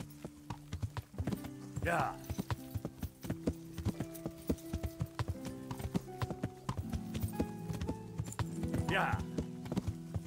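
Horse hooves clip-clopping at a quick, steady rhythm in the medieval video game Kingdom Come: Deliverance, with a couple of whinnies, a faint musical drone and someone talking briefly over it.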